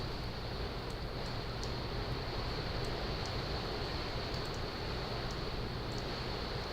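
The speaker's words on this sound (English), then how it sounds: "The rain is just being blown into our building." Severe thunderstorm winds with 60-mile-per-hour gusts drive rain against a television studio building in Lancaster County, a steady loud roar of wind and rain without a break, no voices heard.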